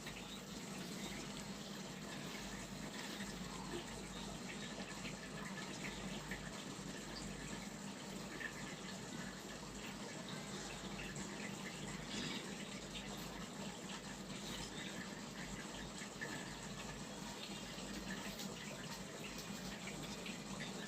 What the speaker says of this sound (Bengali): এরপর পরিমাণ মতো পানি ঢেলে দিন